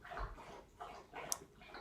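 A dog laps and slurps water in the background, a quiet rhythmic series of wet laps repeating several times.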